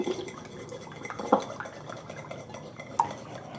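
One egg beaten with a utensil in a bowl for a basic flour, egg and panko breading on chicken katsu: soft, steady stirring with a couple of sharper clinks against the bowl, close by and fairly quiet.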